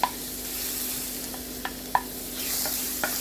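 Garlic frying in hot olive oil in a pan for Mexican rice, a soft steady sizzle with a few sharp clicks of a utensil stirring against the pan.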